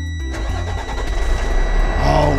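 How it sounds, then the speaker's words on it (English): Garbage truck engine cranked and started up close: a loud starter churn catches into a deep rumbling diesel idle that swells slightly and holds steady. "That's the sound of the engine."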